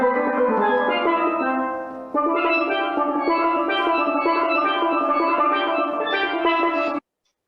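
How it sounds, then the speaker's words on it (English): A double second steel pan plays a continuous run of bright ringing notes on its own, steady and fairly loud, with a brief dip near the two-second mark before ending abruptly. "A double second would sound like this"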